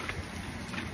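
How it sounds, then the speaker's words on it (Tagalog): Heavy rain pours in a steady, dense hiss and patter, loud and continuous with no voices. "Kusog mang ulan, ay."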